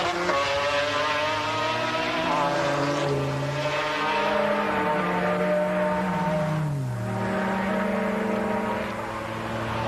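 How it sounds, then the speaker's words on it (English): McLaren and Porsche race cars battling wheel to wheel on a circuit, a continuous loud engine roar with rising and falling pitch as the cars shift and pass, steady throughout. "We zien hier de strijd tussen McLaren en Porsche."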